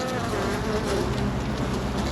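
Honeybees crowd a beehive while feeding on a pollen patty, giving a close, continuous buzzing drone with no talking.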